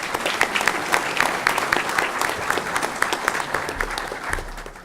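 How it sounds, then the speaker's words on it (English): An audience at a school district board meeting applauds with steady, dense clapping that stays loud and even for several seconds, with faint crowd murmur underneath. "let's do another round of applause"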